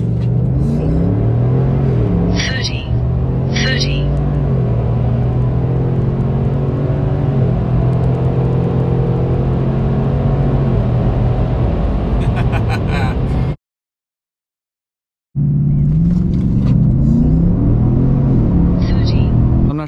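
A pickup truck with a 6.2 engine rumbles loudly as it accelerates hard, with steady engine drone and shifting tones, cut by a brief silent gap, while people talk over it.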